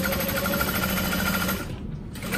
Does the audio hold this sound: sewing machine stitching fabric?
yes